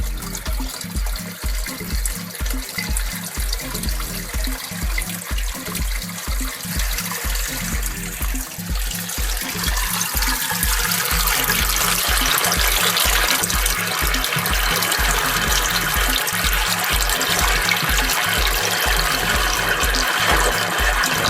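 Steady rush of water from a garden hose flushing dirt across a basement floor, a continuous trickling flow that swells louder and brighter partway through, with a low rhythmic pulsing beneath and no talking.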